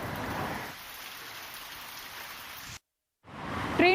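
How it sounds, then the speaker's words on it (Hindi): Heavy rain driven by strong winds in West Bengal makes a steady hiss, louder at first and then softer, before cutting to a brief silence and returning. "पश्चिम बंगाल के कुछ इलाकों में तेज हवाओं के साथ बारिश हो रही है"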